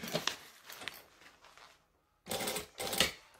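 A sewing machine stitches a bag seam in short, quiet bursts of rapid mechanical whirring, separated by a brief pause before two closer, louder runs.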